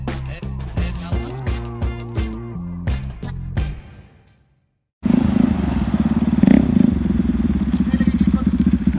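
Motorcycle at a car wash: an up-close engine with a steady, rough rumble that starts abruptly after a short quiet gap, with voices talking nearby.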